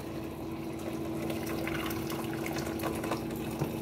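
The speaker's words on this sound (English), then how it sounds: "Put the water in." Water runs steadily into a pot of vegetables for a roast dinner, a close, continuous gushing fill lasting a few seconds with no talking.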